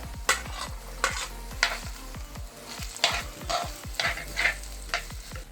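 Shallots fry in a pan for chatti chicken, a continuous sizzle broken by repeated scraping strokes of a spoon stirring them, steady and close.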